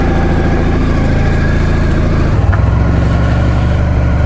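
A motorcycle engine idles close by on a morning departure toward Campo Imperatore, a steady low rumble that deepens and grows heavier partway through, with no talking.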